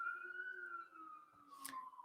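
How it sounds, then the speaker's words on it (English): A siren wails faintly from the street outside, a single sustained tone sliding slowly in pitch, distant and muffled, with a brief clatter partway through. "So you're hearing sirens"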